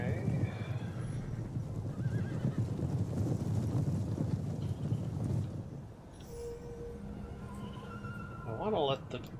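Cavalry horses charging in a battle in the strategy game Total War: Attila, with repeated neighs and whinnies over drumming hoofbeats and a dense battle roar, the clamour easing late as a few sharp whinnies ring out near the end.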